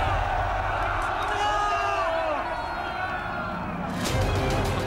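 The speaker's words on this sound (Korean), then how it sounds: "학생들 개개의 함성은 마침내 거대한 파도가 됐다" Crowd of university students shouting and cheering at a protest, a dense continuous roar of many voices with rising calls, loud and sustained throughout, surging again near the end.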